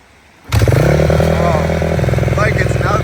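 Used dirt bike engine catching suddenly after near silence, then running loud and close with a rapid, rattling idle that holds steady to the end.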